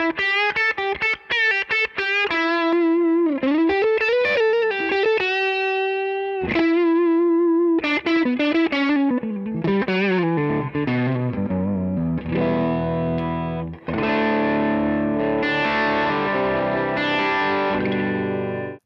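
A distorted electric guitar plays through an amp and a power attenuator, loud and continuous: chorded riffs and sustained notes with heavy crunch and effects, building into a dense, saturated wall of sound with no voices.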